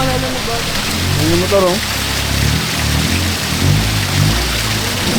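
Heavy rain pours steadily as a dense, continuous hiss, fairly loud throughout, with people talking over it near the start.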